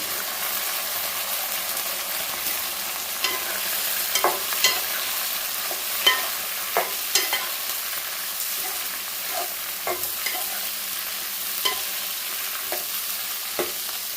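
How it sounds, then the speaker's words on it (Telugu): Tomato pieces and drumstick pods fry in a pan for a lentil dish, giving a steady loud sizzle throughout with repeated stirring scrapes and clinks at irregular intervals, no talking. "అవి ఫ్రై అవుతున్నాయి కదండి ఇప్పుడు దాంట్లో టమాటా ముక్కలు అలానే కట్ చేసి పెట్టుకున్న మునక్కాళ్ళండి"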